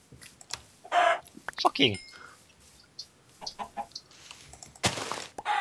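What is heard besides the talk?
chickens clucking in Minecraft video game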